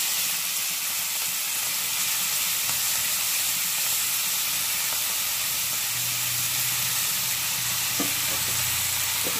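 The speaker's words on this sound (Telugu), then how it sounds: "మెంతికూర అంతా వేసుకొని మీడియం ఫ్లేమ్ పెట్టుకొని 5 మినిట్స్ ఫ్రై చేసుకోవాలి." Fenugreek leaves (methi) frying in a pan over medium flame, a constant dense sizzle and hiss with faint stirring scrapes near the end.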